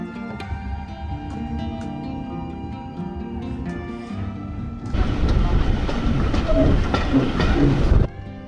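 Heritage railway train on the three-mile Lakeside to Haverthwaite line in the Lake District, a low rumbling rolling sound with a steady hum that swells louder and rougher about halfway through, then drops off near the end.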